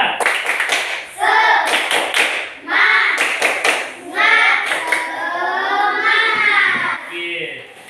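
A classroom of schoolchildren performs a rhythmic spirit clap, sharp clapping in grouped patterns mixed with their loud chanting voices, energetic and close.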